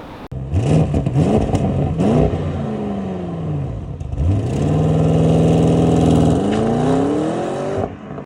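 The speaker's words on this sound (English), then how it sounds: "this engine is actually pretty unique, pretty cool, and actually fits pretty well actually in this car" Audi RS7 engine revving: a loud, close engine blipped several times with rising and falling pitch, then held at a high, steady roar before dropping back to idle.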